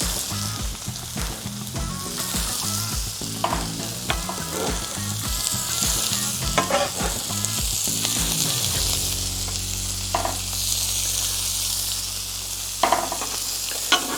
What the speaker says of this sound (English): And I'm gonna dump my onions in.